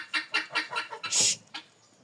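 Geese and a gander honking loudly close by, a quick run of five or six harsh calls followed by one long drawn-out screech and a final short honk.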